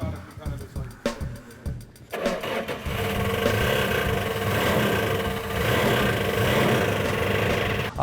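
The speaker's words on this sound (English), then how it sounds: "Hopefully that's going to take care of our sound, and we'll have a really smooth, nice sounding motor." A car engine cranks and catches, then runs at a steady, loud idle with a continuous mid-pitched hum.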